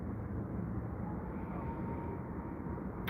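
A British Airways aircraft taxiing across the apron toward the runway at Heathrow airport gives a loud, steady, continuous engine roar that holds unbroken throughout.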